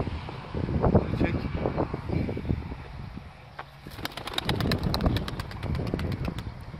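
Soft cooing and chirping of young pigeons in a loft close by, with wind rumbling across the microphone and a scatter of light clicks.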